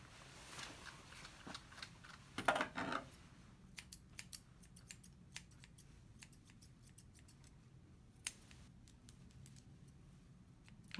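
Scissors snip a dog's fur during grooming, trimming around the ear flaps: quick, crisp clipping sounds close up, in irregular bursts and single snips, along with a brief rustling handling noise early on.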